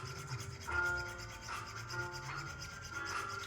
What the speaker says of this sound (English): I'm going to switch to a cut 4 really fine half round ring file